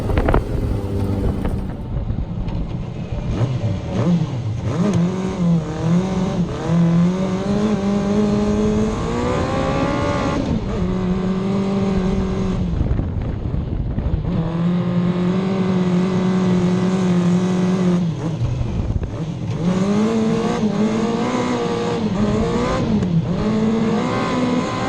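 Yamaha ATV buggy fitted with a GSXR motorcycle engine revs hard in repeated rising and falling pulls, loud and close throughout, with wind buffeting the microphone and no talking.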